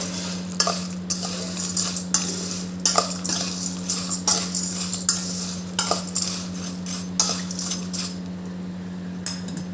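Sweet potato farali chevdo being stirred and tossed in a pan, with a steady run of scraping, clattering spoon strokes against the metal over a constant low hum, close and fairly loud throughout.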